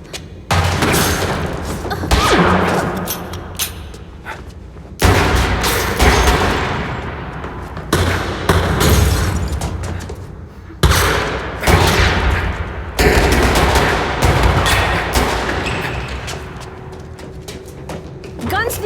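Repeated bursts of gunfire crack out in clusters with short gaps, loud and close, mixed with shouting and commotion.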